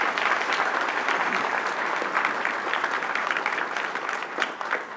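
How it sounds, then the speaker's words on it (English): A room at a school board of education meeting fills with applause, a dense, even wash of many hands clapping together that holds steady throughout. "Let's give Aiden a round of applause."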